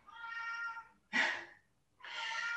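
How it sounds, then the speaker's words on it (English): A cat meows three times, long drawn-out cries with a sharper middle one, close and clear in a quiet room. "or you might hear my kitty cat meowing."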